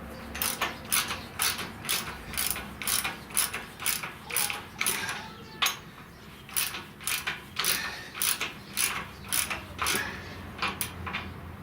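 A hand ratchet tightens the bolts on a coil spring compressor during front coil spring installation, giving about twenty evenly spaced, close clicking strokes in a steady rhythm with no talk.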